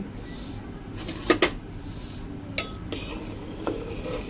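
A spoon stirs milk with cashews and raisins in a metal pot, giving a few sparse clinks and scrapes against the pot, two quick knocks close together, then softer occasional taps over a quiet background.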